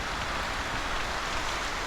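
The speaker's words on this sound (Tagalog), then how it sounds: "Ang lakas ng ulan, no? Biglang umulan." Steady, dense sudden rain hisses continuously on a leaking roof, an even wash of falling water with no voices.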